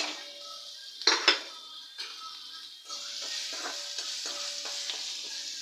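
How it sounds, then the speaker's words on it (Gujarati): Chopped onions tipped into a hot pan with curry leaves, a clatter of utensil against metal followed by a rising steady sizzle and light stirring scrapes, close by. "તો હવે આપણે કાંદા નાખી દઈએ."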